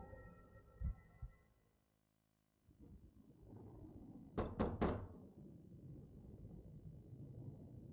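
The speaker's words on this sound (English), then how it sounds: "My fist pounds on the door." A fist pounds on a door in a dark horror-style video game: three quick, loud knocks land close together after a stretch of low ambient rumble, followed by a lingering murky background drone.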